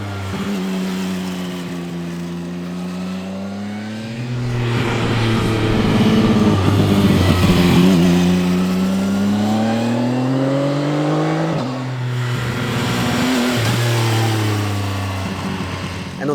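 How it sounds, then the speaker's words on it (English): A CFMOTO 675 NK motorcycle engine revs hard through rising pitch sweeps, dropping briefly between quick-shifter gear changes, loud and close with no talking. "The engine sounds absolutely wild, it accelerates very hard"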